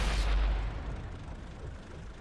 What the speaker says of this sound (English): Nice example of explosion there.